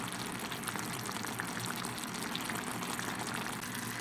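Sauce for Philly cheese steak sloppy joes simmering in a pan to thicken, a soft continuous bubbling and popping, even and fairly quiet throughout.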